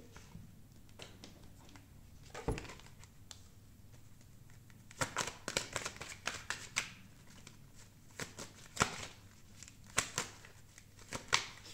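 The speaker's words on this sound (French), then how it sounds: "On range les cartes." Tarot cards riffled and tapped together as they are gathered and put away, a string of quiet crisp shuffles and slaps with pauses between them, close and alone.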